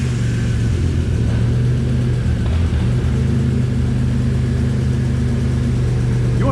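A 1997 BMW M3 engine idles steadily up close, a low even rumble with a constant hum and no revving.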